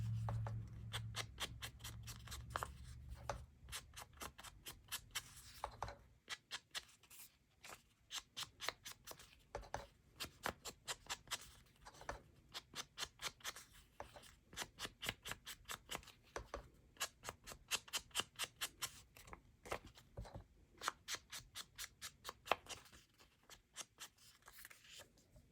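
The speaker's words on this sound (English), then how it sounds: "I also going to distress the edges of this envelope" Paper envelope edges being distressed for a vintage look during a card-making craft session, heard as close, quiet scraping and scratching strokes in irregular bursts that continue steadily throughout with no talk.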